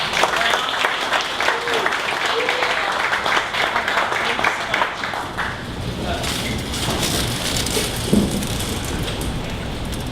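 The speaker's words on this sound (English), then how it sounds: "give a big warm welcome and round of applause for every presenter" Audience applause welcoming a presenter at a morning startup pitch event, a full round of clapping that thins and fades over ten seconds, with some voices and shuffling as it dies down.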